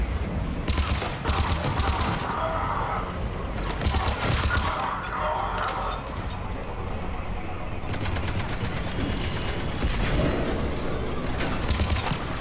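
Turrets fire in Mass Effect 3 amid a firefight, with dense bursts of rapid gunfire and booming impacts nearly nonstop and loud throughout, briefly thinning in the middle before resuming.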